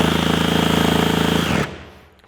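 A Craftsman V20 brushless reciprocating saw (model CMCS351B) runs with a loud, steady buzzing rattle that stops abruptly, leaving a fading tail.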